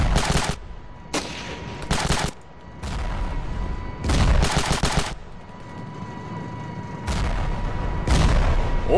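Heavy bursts of gunfire and booming blasts in the war game Ravenfield, loud and close, coming in several separate volleys with short gaps of quieter rumble between them.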